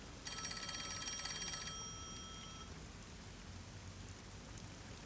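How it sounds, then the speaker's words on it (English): A telephone rings in a mystery video game, a bright electronic trill lasting about a second and a half, then fading out over steady rain ambience. "Oh, the phone."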